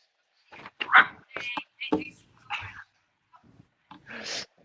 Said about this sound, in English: neighborhood dogs.